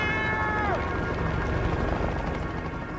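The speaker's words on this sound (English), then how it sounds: "The sound of rotor blades is tantalizingly close." Helicopter rotor blades whir close by over open mountain wilderness, a dense steady broadband drone with a brief falling whistle, while a voice speaks over it.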